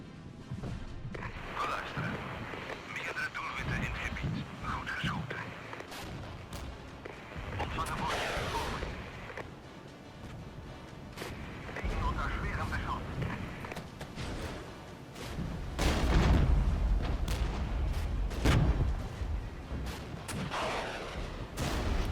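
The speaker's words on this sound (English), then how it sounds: "Keep the artillery firing." Artillery fires in the Regiments war game as scattered booms and thuds that grow denser and heavier toward the end, with muffled gunfire mixed in.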